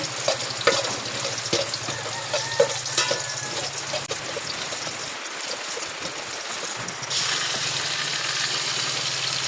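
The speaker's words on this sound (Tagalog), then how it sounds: "Pagkulaon ta na yung mga panakot bago ilunod ang karne." Aromatics sautéing in a hot pan before meat goes in, a steady close sizzle and crackle with intermittent stirring clatter, loud and continuous with no talk.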